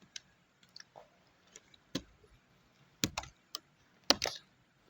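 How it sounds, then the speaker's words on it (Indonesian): Scattered clicks of a computer keyboard as a spreadsheet formula is typed, sharp isolated keystrokes with pauses between them in a quiet room. "mari kita mengetik rumusnya"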